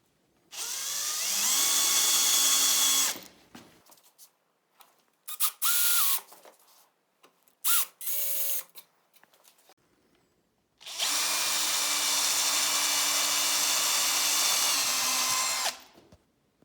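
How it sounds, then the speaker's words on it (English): A power drill drives screws through pilot holes while a wooden bookshelf is assembled, heard as two long, loud whirring runs with several short bursts and clicks between them. No one speaks. "putting screws through the pilot holes that we drilled"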